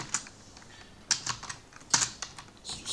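Keys on a computer keyboard clack close by while code is entered, a few sharp clicks in loose clusters separated by brief gaps, with no speech over them.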